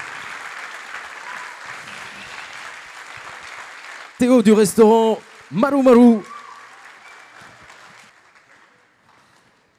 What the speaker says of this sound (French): Merci, Chef Thierry, qu'on peut applaudir très fort.